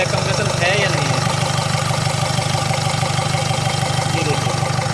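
Ford Figo diesel engine idling during a back compression check, a steady mid-pitched rumbling vibration close up, with someone talking over it.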